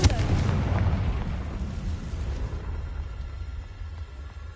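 A Confringo blast spell in Hogwarts Legacy goes off with a loud booming burst that decays over a few seconds into a rumbling tail.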